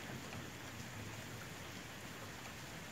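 Steady heavy rain pours outside a house during a lightning storm, a dense continuous hiss with a low rumble of thunder underneath, heard from a distance throughout with no voices.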